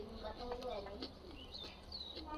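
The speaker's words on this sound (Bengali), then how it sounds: "তত পায়রা দেখো" Pigeons coo in soft, low repeated calls under a steady background hum, with a few higher chirps mixed in, heard in a city flat setting.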